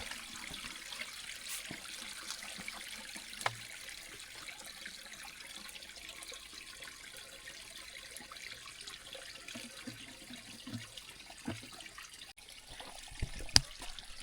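Cold mountain water trickling at a spring on a pine-covered Sri Lankan mountain, a soft continuous babble close by with a few faint splashes and knocks.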